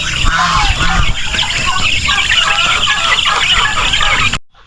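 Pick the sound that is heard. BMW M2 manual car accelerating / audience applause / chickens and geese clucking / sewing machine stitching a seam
chickens and geese clucking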